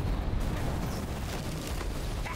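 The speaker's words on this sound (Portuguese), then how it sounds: "Pegou alguma bomba pegajosa em mim" A sticky bomb explodes in V Rising with a dense, rumbling blast that rolls on steadily for a couple of seconds, loud and close, without any talk.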